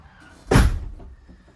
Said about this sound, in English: I'll close this door to try and eliminate some of that road noise.